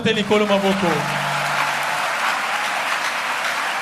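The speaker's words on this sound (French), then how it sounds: "acclamons le Seigneur" A church congregation applauds, a dense wash of clapping that rises from a voice calling out at the start and then carries on steadily on its own.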